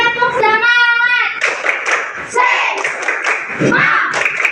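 A school class performs the rhythmic 'tepuk semangat' clapping chant, with many children clapping in unison between loud chanted voices, close and energetic.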